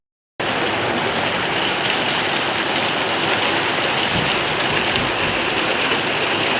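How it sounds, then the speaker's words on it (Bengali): Steady, dense rain drumming on the roof of a small room, heard from indoors as an even broadband hiss that continues unbroken and fairly loud throughout, with no talking. "এখন আপাতত ঘরের ভিতরে দাঁড়ায় আছি, ছাদে বৃষ্টি হচ্ছে।"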